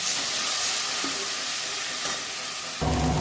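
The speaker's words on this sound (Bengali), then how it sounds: "এবার আমি ভালো করে একটু জল দিয়ে কষিয়ে নেব" Spice masala sizzles and hisses loudly in a pan with water added, a dense steamy spray of sound that briefly shifts near the end as it is stirred.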